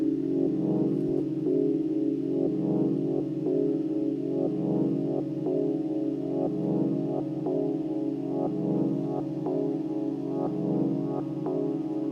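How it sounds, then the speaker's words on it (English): A sustained synth pad from an Elektron Digitakt holds a warm chord with faint rhythmic ticks underneath, its filter slowly opening so the tone swells gently over a steady, moderately loud bed of sound. "Now you hear the filter is opening."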